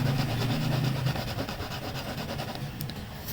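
A coin rubbed across Atlas Honda parts packaging: a close, continuous scratchy scraping with a faint hum underneath, brief and steady with no talking.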